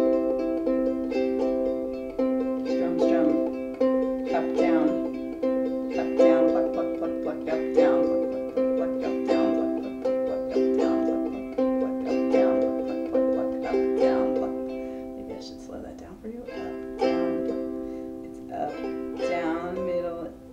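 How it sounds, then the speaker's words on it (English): A high-G ukulele plays a steady, repeating pattern that mixes fingerpicked notes with quick strums, the bright plucks and brushed chords recurring in an even rhythm for the whole stretch, close and clear. "So there's an up strum at the end of the pattern leading into the strum at the beginning of the pattern."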